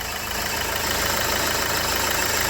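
A Renault Megane 3 1.5 dCi K9K diesel engine idles steadily nearby after fuel injector replacement, a low, even rumble with a faint knocking pulse and no voices.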